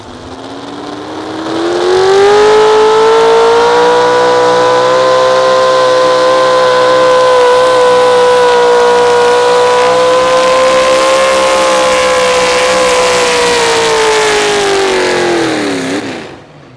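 A Pro Stock 4x4 pulling truck engine screams at sustained high revs for a long pull at an outlaw pulling event in Wisner, Nebraska, loud and close, pitch holding steady before dropping as it shuts down.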